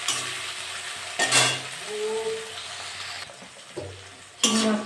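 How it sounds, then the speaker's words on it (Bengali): Shrimp coated in salt and turmeric frying in a pan with onion and green chili, with a soft continuous sizzle, occasional stirring scrapes and a few louder clinks of a utensil against the pan. "চিংড়ি মাছটা একটু ভেজে নিয়েছি"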